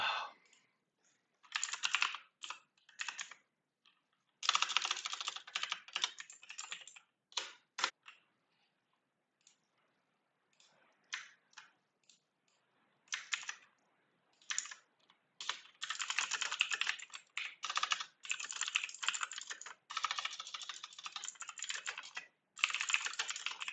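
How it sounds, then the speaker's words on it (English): Fast typing on a computer keyboard during a live coding session, clicking in irregular bursts with short pauses between, close and alone with no voices. "my typing is terrible."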